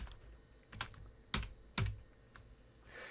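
Keys on a computer keyboard clack in a short burst of typing, a few distinct close taps spaced irregularly over a quiet background.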